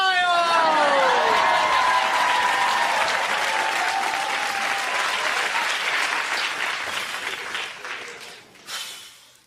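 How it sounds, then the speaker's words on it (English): A stadium-style crowd cheers wildly for a gold-medal personal best, with loud, dense applause and shouting that holds steady and then fades out near the end. "and the crowd goes wild!"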